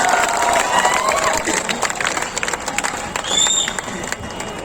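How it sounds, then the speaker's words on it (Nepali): A festival audience at the Janaki temple in Janakpur bursting into loud clapping and cheering, a busy crowd roar with shouts and whistles that rises and slowly fades over a few seconds. "जोरदार ताली।"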